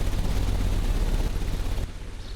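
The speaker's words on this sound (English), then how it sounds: "The engine has started." An engine in the Sherlock Holmes Crimes and Punishments video game rumbles loud and steady, a dense low roar that cuts off and drops away near the end.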